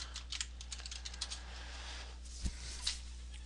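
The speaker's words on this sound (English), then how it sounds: "You type it in, you hit enter" Keystrokes on a computer keyboard as a ping command is typed, a run of light, quick clicks over steady low hum, with a couple of firmer taps near the end.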